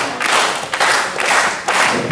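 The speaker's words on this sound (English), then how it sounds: "Crowd rallying behind Nish." A wrestling crowd clapping in unison to rally behind a wrestler, loud and close, with dense rhythmic claps rising in waves and brief dips between bursts.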